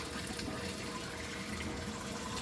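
Water pours steadily from a sump inlet pipe into a DIY filter box lined with filter floss beneath a 15-gallon aquarium, a continuous close rushing trickle with no talk.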